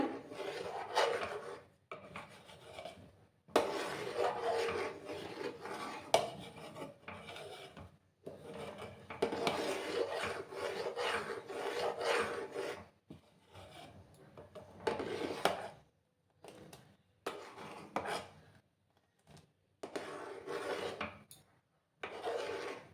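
A spoon stirring rice in a cooking pot for jaggery kheer makes quiet scraping and rubbing strokes in repeated bursts, separated by short pauses, close and soft with no talking.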